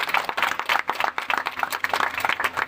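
A congregation at a Hindi-language church service claps their hands in thanks to the Lord, a dense, lively burst of many hands that swells and dips steadily without a break.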